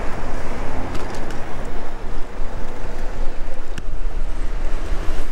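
Strong wind roars across the microphone while a delivery courier cycles on a city street, a steady, loud rushing broken by brief gusts and faint clicks, with no talk.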